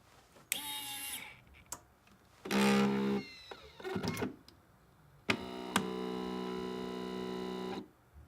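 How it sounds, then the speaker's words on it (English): A NeedleSmart Pro unit rendering a used hypodermic needle safe, giving bursts of mechanical whirring and buzzing: short electric whines, a louder grinding burst, then a steady sustained hum for a couple of seconds before it stops. "The NeedleSmart Pro is a simple system for rendering a post-use hypodermic needle safe."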